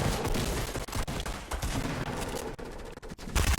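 Submachine gun fire in Fortnite, played on a Surface Go, comes as loud sustained bursts of rapid shots with brief gaps, dense and close, and no talking over it.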